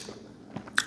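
A single crisp, close bite into a crunchy pickle at a deli, a quick snap followed by brief chewing, quiet and alone.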